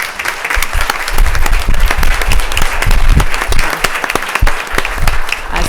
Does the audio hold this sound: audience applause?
yes